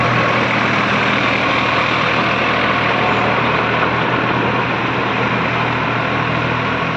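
A tractor engine runs steadily at a farm demonstration in Chityalapelli, Karimnagar, a loud continuous rumble with constant broadband noise and no break across the whole stretch.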